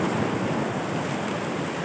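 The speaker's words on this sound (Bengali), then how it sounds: "আর জলের স্রোতটা প্রচণ্ডভাবে বেড়ে গেছে, দেখতেই পাচ্ছ" Strong sea waves at Digha beach, a continuous loud roar of surf with wind buffeting the microphone.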